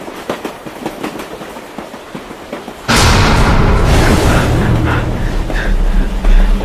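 A train runs along with a low rumble. Light rhythmic clicking gives way to a sudden, loud, sustained roar and rattle that stays heavy to the end.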